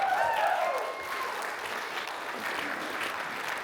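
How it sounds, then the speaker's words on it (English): Audience applause at a voice-acting panel at a convention in Norman, Oklahoma, a burst of clapping that starts fuller then settles into a steady, moderately quiet patter. "Give another round of applause."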